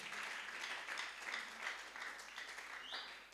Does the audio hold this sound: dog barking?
no